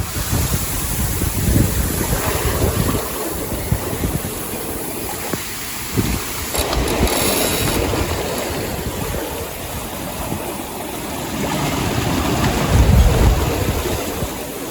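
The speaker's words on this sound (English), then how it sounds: "So the wind's picked up a bit now, so that's good." Wind and waves on a sailboat running downwind off Baja near the USA–Mexico border, with strong wind buffeting the microphone over continuous rushing surf and hull wash, loud and unbroken, with no talking.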